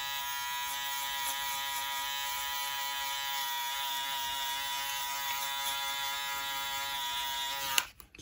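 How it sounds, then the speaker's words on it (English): An Andis electric shaver buzzes steadily and close while a hairline is cleaned up during an at-home haircut, a constant high-pitched motor drone that holds unbroken for about eight seconds before cutting off abruptly. "I'm going to grab my Andis shaver,"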